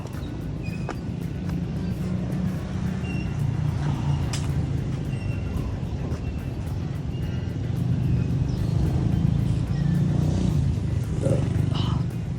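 Busy road traffic passes at Indochina market, a steady rumble of cars and motorbikes with occasional louder passes, while someone talks over it.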